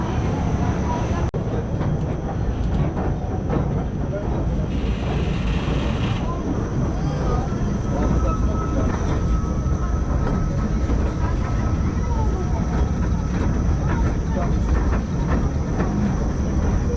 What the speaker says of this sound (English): I'm gonna queue up for the train, see where that takes us.